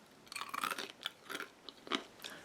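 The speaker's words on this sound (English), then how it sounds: "But here's the crunch." Bites into a crispy baked crescent cheese danish, a series of close, dry crunches and chewing crackles in quick irregular bursts, with no talk.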